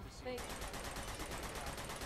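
Rapid gunfire from a shootout in Uncharted 2, a dense burst of repeated shots running continuously after a brief lead-in, with voices talking over it.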